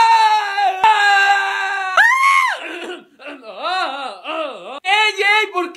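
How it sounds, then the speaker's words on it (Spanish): Several people scream in fright in a dark place during a power outage, with high shrill shouts and wavering cries overlapping, loud and close. "¿Por qué gritan?"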